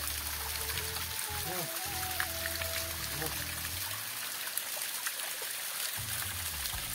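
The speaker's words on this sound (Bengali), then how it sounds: "তো ঝর্ণাটা দেখো কি সুন্দর গাইস, আর পাহাড়টা দেখতে পারো গাইস, ঝর্ণাটা এই উপর থেকে আসে।" A small hillside waterfall in Bongaigaon keeps up a steady rushing flow throughout, with a person briefly talking over it early on.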